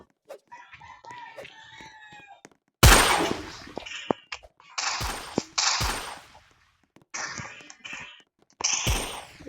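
Several sharp gunshots ring out in a Roblox Murder vs Sheriff match, loud and close with uneven gaps between them, following a stretch of chirpy game music or effects at the start.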